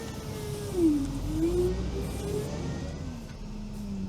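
Veter all-terrain vehicle driving with locks disengaged, a steady low engine drone with a wavering mid-pitched whine rising and falling as it moves, heard continuously and fairly close.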